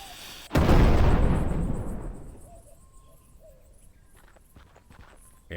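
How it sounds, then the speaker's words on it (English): A sudden loud explosion in the Rosewater video game erupts with a big blast and long rumbling decay, followed by faint scattered clicks and light thuds as it fades. "an explosion will certainly liven up your article"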